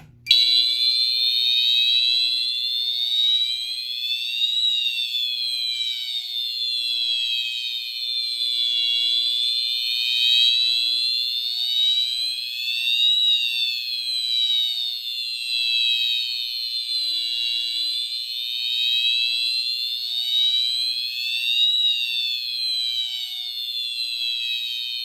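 Fire-Lite MS-5UD fire alarm system sounding continuously after a Pyrotronics single action pull station is pulled during a board test, a loud sweeping electronic tone repeating in steady cycles for the whole stretch, with no talking.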